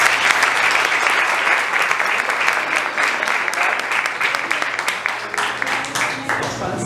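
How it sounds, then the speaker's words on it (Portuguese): A crowd applauds steadily, thinning into scattered individual claps toward the end, with voices faintly audible underneath. "Ok, salve de palmas para ela."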